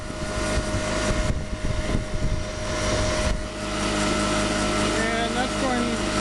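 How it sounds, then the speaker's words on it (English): Modified imperial DC motor turning the crankshaft of a 10 kW generator under a 600-watt lighting load, a loud continuous whirring hum with a steady tone that dips slightly as the load is added, with someone talking over it. "You heard the motor speed drop a little bit."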